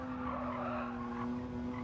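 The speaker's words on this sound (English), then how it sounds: "The tyre squeal sounds okay to me." Sustained tyre squeal from a car in the racing video game Gran Turismo 7, a steady tonal screech with broadband skid noise running continuously at moderate level, no talking.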